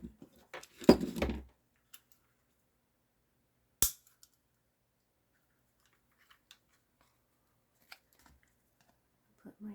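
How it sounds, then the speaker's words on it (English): A big piece of scrap material being cut for vintage craft tags with a brief burst of close snipping near the start, then a single sharp snip and a few faint scattered clicks in near silence. "I'm just gonna cut a big piece"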